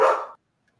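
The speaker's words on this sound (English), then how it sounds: "Sorry, that's my dog." A single close, sharp dog bark rings out indoors and cuts off quickly, followed by silence.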